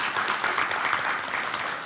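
An audience claps for everyone who worked on a community project, a short burst of steady, evenly spread applause with no voices over it.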